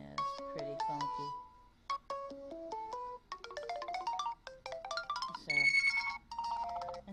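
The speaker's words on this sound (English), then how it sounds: "Some of these are the stock ringtones, but I like that." A series of bright stock ringtone melodies from an HTC One Max smartphone play one after another, chiming tones shifting in pitch and rhythm, loud and close with no talking.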